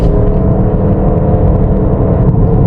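A small car cruising at over 120 km/h gives a steady, loud, close cabin drone of engine and road rumble with constant whirring, unbroken for the whole stretch and with no voices.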